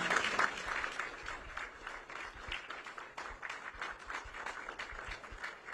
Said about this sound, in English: Let's give one more round of applause to the great Governor Kristi Noem.